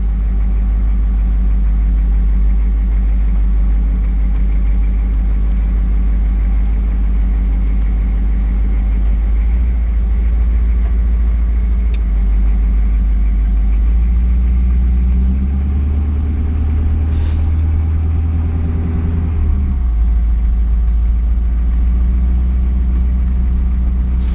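A centermount boat engine runs during break-in with a 290 thou plunger pump, a loud, steady low rumble at part throttle that rises slightly in pitch partway through before easing back.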